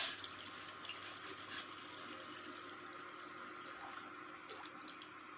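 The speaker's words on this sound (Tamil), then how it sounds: "இப்போ நம்ம அடுப்பு ஆன் பண்ணிவிட்டு பாத்திரத்தை வச்சு தண்ணி ஊற்றிக்கலாம்" Water is poured into a pot on a kitchen stove for banana tea, a faint, continuous splashing trickle heard alone, slightly louder at the start.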